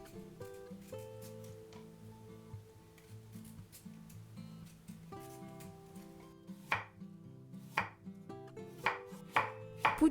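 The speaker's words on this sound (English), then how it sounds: "To make the pickles, cut into julienne, 2 carrots, and 300 grams of turnip" A knife cuts carrots and turnip into julienne on a board, with sharp rhythmic chops that speed up into a quick run of loud taps near the end, over faint background music.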